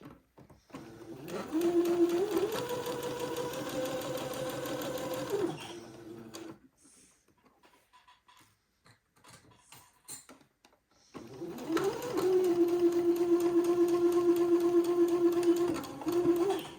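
A sewing machine sews a doll dress seam in two steady, humming runs of several seconds each, separated by a quiet pause, close and without talk.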